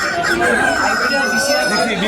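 A hybrid chicken calls amid a busy, noisy poultry market, partly masked by people talking nearby.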